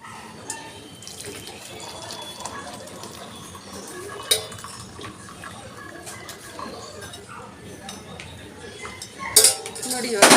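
A boiled home-remedy decoction for cold and cough is strained with kitchen utensils: running liquid and water sounds mix with clinks of metal vessels and spoons, ending in louder clattering up close.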